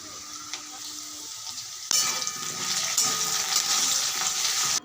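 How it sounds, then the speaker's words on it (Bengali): Cut potatoes dropped into hot oil in a wok with salt and turmeric, a sudden loud sizzle bursting in after a quiet stretch and holding as a steady bright hiss to the end. "গরম হয়ে গেলে কেটে রাখা আলুগুলো আমি এই গরম তেলে দিয়ে দেবো"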